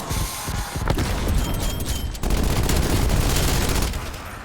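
Rapid gunfire in a Call of Duty zombies match, loud sustained bursts and fusillades with a sharp crack near the start, close and continuous.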